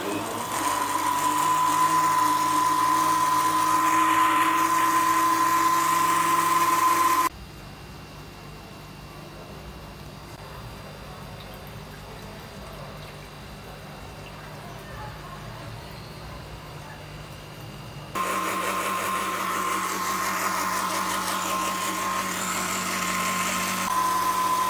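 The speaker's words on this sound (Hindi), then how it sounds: "अब हम इसे ब्लेंड कर लेंगे।" A blender whirs as it blends a dragon fruit milkshake, running in two loud, steady bursts of high motor whine separated by a quieter stretch of about ten seconds.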